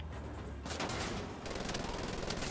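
Minigun fire in the video game Wolfenstein The Old Blood: a loud, continuous, rapid burst starts abruptly and roars steadily to the end.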